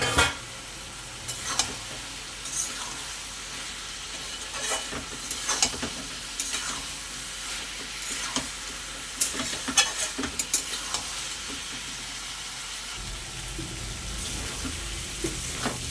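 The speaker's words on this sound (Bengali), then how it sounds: "এবারে দিয়ে দেবো চিংড়ি মাছগুলো দিয়ে আরেকটু ভালো করে কষে নেব।" Prawns stir-fry with banana flower in a pan, giving a steady sizzle broken by repeated scraping and clattering of a spatula, with a lower frying rumble joining near the end and no talk.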